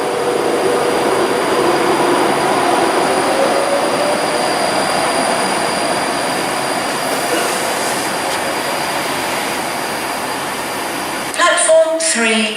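A train runs steadily and loudly through Warrington Bank Quay station on the West Coast Main Line, with wheel squeal and rumble throughout, then a brief clattering change near the end.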